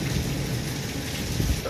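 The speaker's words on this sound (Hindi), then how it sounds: "बड़ी प्यारी बारिश लगी।" Steady rain falls outdoors in Islampura, a dense even hiss with low rumbling underneath, constant and close, with no voices.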